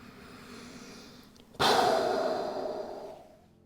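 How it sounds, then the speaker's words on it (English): Audible breathing during a beginner yoga session in child pose: a soft exhale through the mouth swells suddenly midway and fades slowly, heard close and alone. "Exhale through the mouth. Inhale through the nose."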